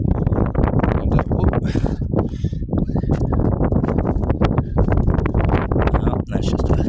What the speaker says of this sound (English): There's a nice wind that's blowing.